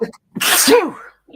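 A single sharp sneeze, close and loud, with a brief inhale just before it.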